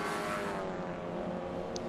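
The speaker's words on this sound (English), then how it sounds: "The grey car of Grant Anderson goes through." A grey Ford Fiesta race car at the Knockhill Scottish Fiesta Championship roars past on the track, a steady, fairly distant engine drone with no voices over it.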